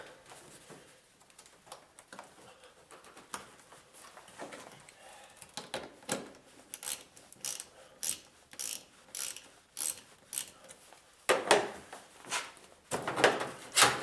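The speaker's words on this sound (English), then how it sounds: "that's a 5/16 socket for anyone that's wanting to know to take that clamp loose" A 5/16 socket on a ratchet loosens the air filter clamp on a 3.5 liter Pontiac G6, giving quick bursts of sharp clicking in irregular runs that grow louder and denser toward the end, close by with no talking.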